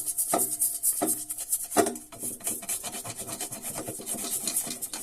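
Rough scrubbing and rasping on a rusted metal part being cleaned by hand, with a few sharp strokes near the start followed by continuous close-up rubbing.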